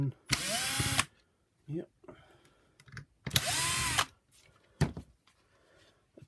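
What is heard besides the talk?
powered screwdriver removing screws from Shark vacuum brush roll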